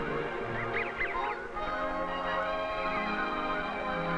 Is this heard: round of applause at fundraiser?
no